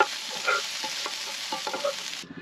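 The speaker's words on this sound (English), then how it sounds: "And now we're just frying a little bit of pineapple." Small pieces of pineapple fry in a little oil in a pan, giving a steady close sizzle with light clicks and scrapes of stirring throughout.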